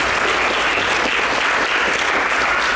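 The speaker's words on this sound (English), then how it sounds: "So if we could just give them a round of applause." A banquet crowd at a high school wrestling team gathering gives a round of applause; dense, loud, continuous clapping from many people fills the room evenly throughout, with no talking heard over it.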